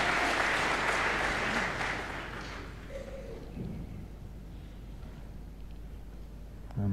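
About 2,000 snooker spectators at Alexandra Palace applaud loudly, then the clapping thins after a couple of seconds into a low, buzzing crowd murmur.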